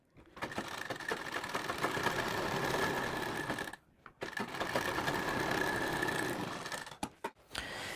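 A sewing machine stitches a strip onto a sleeve for a two-colour striped sleeve design, running in a steady close whir for several seconds, pausing briefly, then running again before stopping with a few short bursts.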